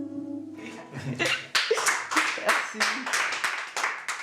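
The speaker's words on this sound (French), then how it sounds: "Le jury applaudit, mais Antoine n'en a pas encore fini." A jury applauding in a room, with a burst of rapid, irregular hand claps rising after a fading sung note, several people clapping close and loud.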